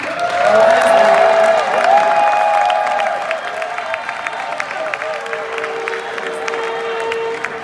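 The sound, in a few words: audience applause welcoming speaker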